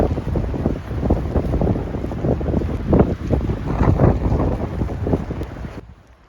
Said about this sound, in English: I don't know if this is captured on camera of how windy it is.